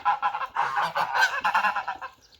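A domestic goose honks in a cold winter farmyard, a close, loud series of rapid nasal honks in quick succession that fade at the end.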